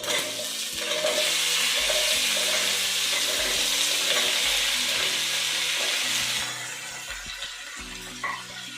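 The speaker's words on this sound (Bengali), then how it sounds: "এবার আমরা এটা একটুখানি নাড়াচাড়া করবো, দিয়ে আলুগুলো দিয়ে দেবো।" Elephant foot yam and potatoes stirred while frying in a pan, a loud continuous sizzle with repeated scraping knocks of the spoon, easing slightly toward the end, close by with no voices.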